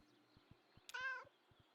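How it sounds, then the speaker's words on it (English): A cat in the video game Kentucky Route Zero gives a single chatty meow, short and fairly clear, over quiet footstep-like thuds and a faint background hum. "Chatty meow."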